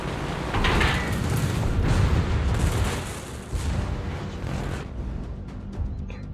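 Secondary guns on the warship Parseval firing in a naval combat game, a dense run of deep booming shots that roll into one another, loud and close, then thinning to a few fainter distant reports.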